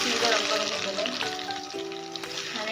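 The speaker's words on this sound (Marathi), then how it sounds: "आता मी तेलामध्ये फ्राय करून घेते" Chicken cheese kebabs frying in oil over low heat, with a continuous close sizzle beneath soft background music tones.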